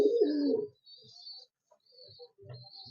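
A nearby pigeon, held in someone's hand, gives a low throaty coo at the start, followed by quieter intermittent coos and soft chirps with short pauses between them.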